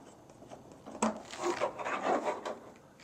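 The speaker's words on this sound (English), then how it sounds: "I think the first thing we have to do here is unscrew the supply line." Rubbing and scraping clatter while unscrewing the water supply line on a Bosch dishwasher, with a sharp knock followed by uneven scuffing and grinding of fittings close by, no speech.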